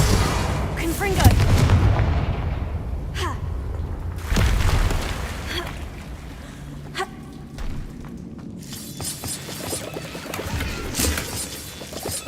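Confringo blasting spells explode in the Hogwarts Legacy video game, a string of sharp booming blasts with crackling tails, several loud hits spread across the stretch along with smaller bursts and impacts.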